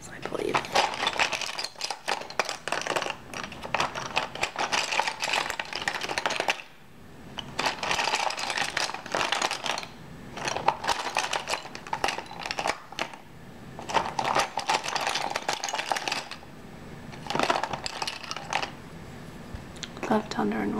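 A box of markers and colored pencils rattles and clicks as it is handled up close, dense bursts of plastic and wooden tapping with brief pauses, while a voice talks over parts of it.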